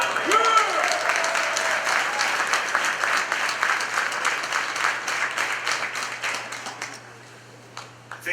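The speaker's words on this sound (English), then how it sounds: "Let's give her another round of applause." Loud, dense audience applause at a groundbreaking press conference in Astoria, Hallet's Point, with a voice briefly at the start. The clapping continues steadily, then fades to a few isolated claps near the end.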